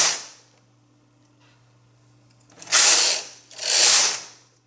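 Two rows are knitted on a knitting machine as the carriage is pushed across twice, giving two loud rasping, clattering sweeps about a second long each, after a faint start and a quiet pause.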